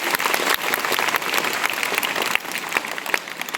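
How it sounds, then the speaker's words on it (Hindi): Schoolchildren at an inter college assembly clap their hands together, a close, busy, continuous crackle of many small claps that holds steady throughout. "अभी सारे बच्चे ताली बजा ले देना, बजा के दिखाओ एक बार ताली।"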